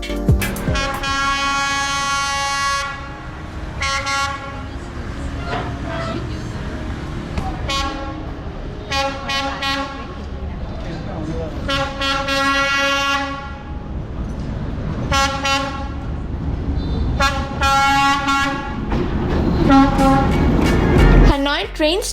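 A train rolls by loudly through a narrow residential street lined with cafés in Hanoi, its horn blasting repeatedly in long, harmonic honks, the rumble of the cars continuing between them.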